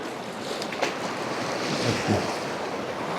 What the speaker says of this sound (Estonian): Selja taga kivid klobisevad selle lainetusest